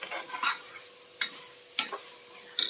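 Chicken liver is added to sautéed onions in a pan, heard as a few distinct spatula scrapes and stirring strokes over a faint sizzle.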